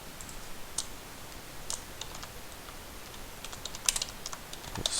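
Computer keyboard typing during a Transport Fever play session: a soft, sparse run of light key clicks with a few sharper taps spread across the clip, close but fairly quiet, no voices.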